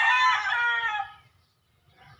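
A rooster crows once up close at a small chicken coop, a loud rising call that fades into near silence with faint low background rumble.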